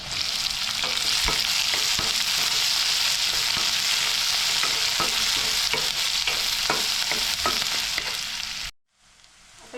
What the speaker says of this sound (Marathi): आता कांदा घालते त्याच्यामध्ये